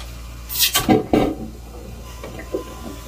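A boat toilet on a Grady White 456 Canyon flushes in a short burst of rushing water and a couple of gurgling pulses, then fades to a quiet hum.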